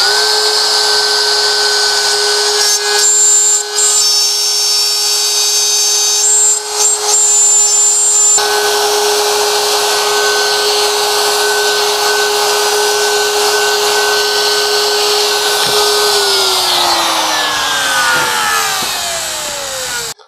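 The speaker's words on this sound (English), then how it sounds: "I'm also setting the depth stop on my router to the exact depth of the thickness of my inlay." A plunge router with a template and guide bushing cuts an inlay recess in wood, a loud steady high motor whine with cutting noise that then spins down as the motor is switched off.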